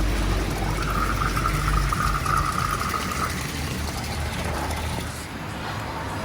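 Water pours steadily from a shower spout into a koi tank, a continuous close splashing wash with a low rumbling hum underneath, loud and unbroken.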